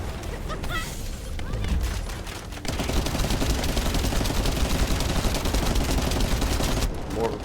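Sustained gunfire aimed at a boss in the video game The First Descendant, with rapid automatic shots and booming impacts running dense and loud, while a voice talks over the combat.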